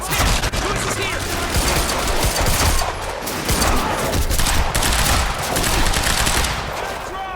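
Dense, sustained automatic gunfire from a Quantum Break combat firefight, loud bursts overlapping almost continuously for several seconds with faint voices shouting beneath the shooting.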